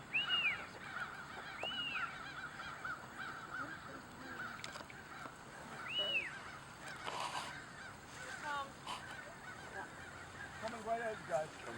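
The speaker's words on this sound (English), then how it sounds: "Here come the crows." Crows flying overhead outdoors during a gyrfalcon flight, their harsh caws and honking calls coming in several separate bursts over steady wind and ambient noise, moderately distant and repeated across the stretch.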